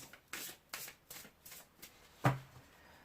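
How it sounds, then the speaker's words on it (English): Tarot cards are shuffled in a series of soft, quick riffling bursts about every half second, closing with one louder slap as the deck is squared; close and quiet, no speech. "I've had to try and shuffle these cards completely differently"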